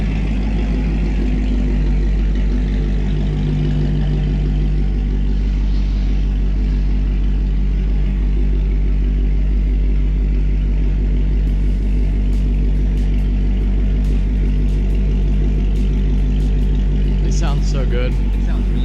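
A stock McLaren 720S exhaust rumbles steadily as the car accelerates, a loud continuous low drone throughout with some faint background noise near the end.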